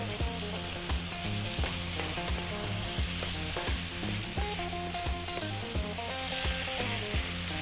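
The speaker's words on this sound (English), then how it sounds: "We actually really want to cook that tomato paste out. Keep it moving" Tomato paste and lamb sizzle steadily in a pan over medium heat, with a dense continuous fry and repeated rhythmic stirring scrapes and taps throughout, close and loud, with no voices.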